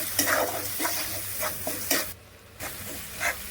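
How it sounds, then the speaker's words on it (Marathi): Ground spices, coriander powder and salt sauté in a hot pan for paneer bhurji, giving a loud, steady sizzle with repeated scraping stirs throughout. "चवीनुसार मीठ, परतून घेऊया।"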